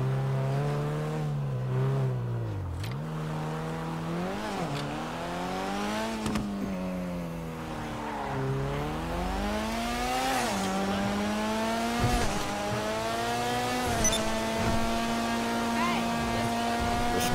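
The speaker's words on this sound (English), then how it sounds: "it sounds really awesome. It's a really awesome sound, this car." Obey Omnis car engine in GTA Online revs loudly and continuously, pitch sweeping up and down through repeated acceleration and gear shifts, with brief tyre squeals breaking in.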